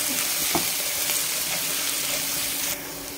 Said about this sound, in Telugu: ఇంకా దీంట్లోనే పచ్చిమిర్చి, కొత్తిమీర యాడ్ చేసుకుందాం. మంచిగా మిక్స్ చేసుకోవాలి ఇదంతా